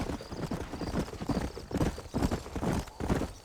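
Horse hooves clip-clopping at a walk while riding in Red Dead Redemption, a steady, close rhythm of hoof beats on the trail with no speech.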